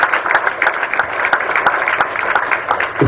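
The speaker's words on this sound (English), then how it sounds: "Shall we give him a warm applause?" Warm applause from a seminar audience for an MC, dense steady clapping from many hands at close range, continuous throughout with no talk over it.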